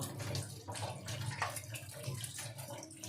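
Water runs steadily from a tap while a hilsa fish is washed clean beneath it, a continuous close splashing with brief surges and no voices.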